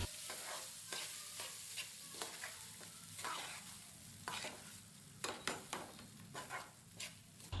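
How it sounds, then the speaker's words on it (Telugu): Cooked tamarind rice (pulihora) being mixed in a pan with the gas switched off, giving steady scraping and stirring strokes at close range with a faint residual sizzle underneath and no talking. "గ్యాస్ ఆఫ్ చేసి పులిహోరను బాగా మిక్స్ చేయాలి."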